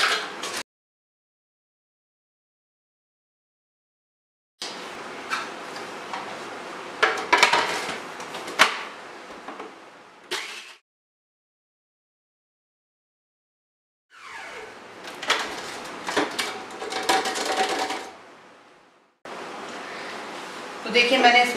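Electric food chopper whirring through pieces of dried bread to grind them into fine crumbs, running in several rough, rattling bursts separated by short silences.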